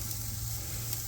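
Asparagus sizzles on a grill, a faint, steady hiss with no talk over it.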